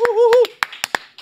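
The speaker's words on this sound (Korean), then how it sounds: "박수로 맞이합니다." Applause welcomes a guest on a political talk show, but it is brief and sparse: a handful of sharp, separate claps, like a few pairs of hands, follow a short spoken phrase.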